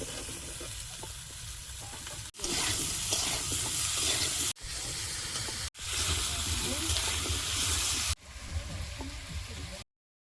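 Potatoes with onion, salt, turmeric, green chilli and tomato sizzle and fry loudly in a pan while being stirred, in several long steady stretches broken by short gaps.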